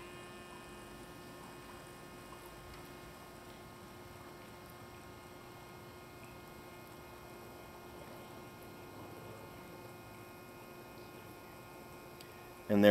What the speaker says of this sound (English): Turn on the pump.